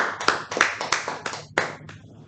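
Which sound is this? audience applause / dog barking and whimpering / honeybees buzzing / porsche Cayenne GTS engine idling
audience applause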